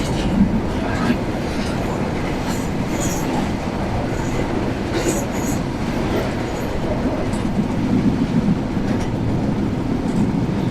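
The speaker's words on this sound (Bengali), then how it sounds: "আর ট্রেনটি দারুণ গতিতে চলছে।" The Rupsha express train to Khulna runs at speed through northern Bangladesh near Nilphamari, giving a steady, dense rumble of wheels on rails with faint squeals and rattles, heard from inside the carriage throughout.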